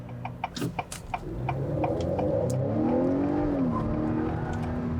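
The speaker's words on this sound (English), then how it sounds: "you could hear the tires screeching a little bit" Car with all-wheel drive accelerating hard from close by, engine note rising steadily while tires squeal briefly, with some sharp ticking clicks early on.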